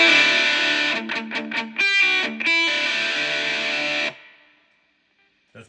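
An electric guitar plays through an ADA MP-1 preamp with heavy distortion, giving a few choppy chords and then a sustained ringing chord that cuts off into near silence in a noisy room.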